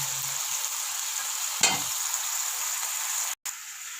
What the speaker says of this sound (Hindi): हल्का सा चम्मच चलाएँ साथ साथ कि ये हम नीचे ना लग जाए। तो इसको भून लेना है हम।